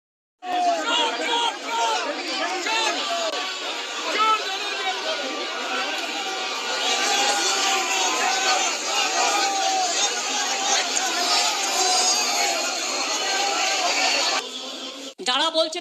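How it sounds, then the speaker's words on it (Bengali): A dense crowd outside Calcutta High Court shouts and chants the Bengali slogan 'chor chor', a loud, continuous mass of overlapping voices lasting about fourteen seconds before cutting off. "চোর চোর স্লোগান।"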